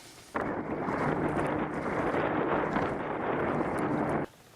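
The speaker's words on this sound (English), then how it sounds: "it was windy this day" Strong wind roars steadily into the microphone, a loud, continuous buffeting rumble that starts abruptly and cuts off just as suddenly.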